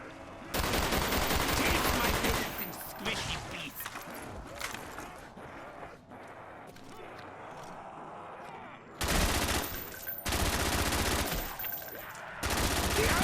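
Sustained bursts of LMG fire in Black Ops zombies on the Kino der Toten map, a dense, loud rattle in two long volleys separated by a quieter stretch of clattering game sound, with a voice talking underneath.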